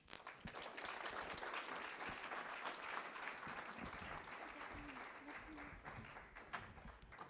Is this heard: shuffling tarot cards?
no